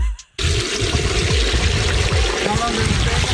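Water pours and splashes out of a turkey fryer in a steady, close gush after a brief quiet start, trickling and gurgling throughout.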